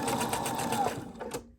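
A sewing machine stitches a short fixed stitch while sewing a mermaid tail, giving a quick rapid whirr that slows and stops partway through, followed by a couple of faint clicks.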